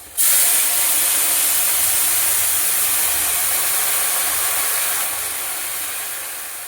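Water poured into a hot pan of well-fried ginger and spices for a drumstick and fish curry bursts into a loud, close hiss of steam that holds steady and slowly fades over several seconds.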